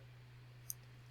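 A single sharp, faint computer mouse click, quick and isolated, over a steady low electrical hum in a quiet room; no talking.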